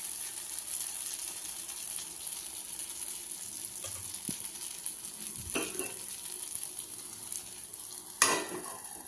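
Ragi bun dosa batter cooks on a hot pan with a soft, steady sizzle, joined by a few light utensil scrapes and taps, one sharper clink near the end.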